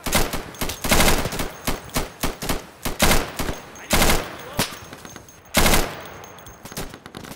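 In the video game Insurgency, loud gunfire crackles in rapid automatic bursts and single shots, several long volleys separated by short pauses, close and dominant throughout.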